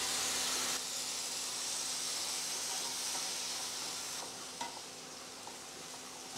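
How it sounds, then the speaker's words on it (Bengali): Spiced drumsticks and eggplant frying in a pan, a steady loud sizzle with stirring scrapes throughout, easing slightly near the end with a brief clink. "মশলা ভাজা হয়ে গেছে, দিয়ে দেবো সজনা ফলি আর বেগুন।"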